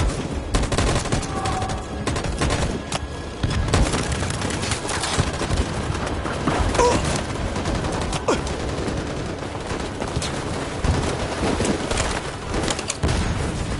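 Volleys of gunfire crackle in Detroit: Become Human, dense overlapping shots and bursts rolling on continuously for many seconds, loud and close, with scattered louder reports among the barrage.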